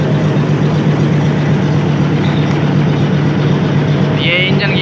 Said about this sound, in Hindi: अभी हम चल रहे हैं आगे, लोकोमोटिव दिखाते हैं आपको और इसका डिपार्चर इंशाल्लाह कैप्चर करेंगे